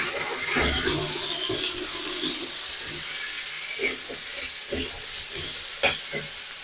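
Raw papaya pieces frying with ginger and green chili paste in a pan, a steady close sizzle with occasional stirring scrapes and clicks, no talking.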